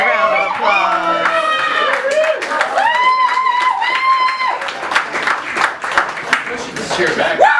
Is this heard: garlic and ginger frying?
no